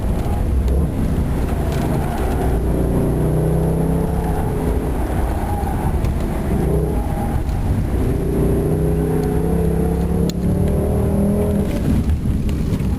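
A Mercedes CLS 63 AMG's engine pulls hard on a track, a loud, sustained roar with rising tones as it accelerates through the gears, heard from inside the car without talk.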